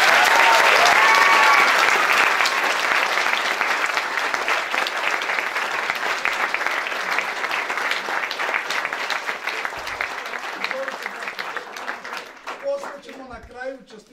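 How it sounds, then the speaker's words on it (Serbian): A large church congregation gives big applause during an ordination service at a spiritual centre in Leskovac. The clapping starts strong and slowly thins out, and a voice begins speaking near the end. "A crkva je jedan veliki aplauz."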